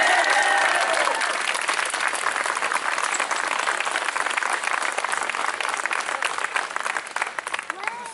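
Sustained audience applause at an outdoor hospital protest, dense steady clapping from a large crowd filling the whole stretch, with a few voices mixed in.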